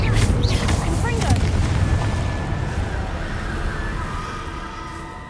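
A Confringo spell exploding in Hogwarts Legacy: a loud, close blast with a rumbling low boom that slowly fades, while a voice speaks over the start.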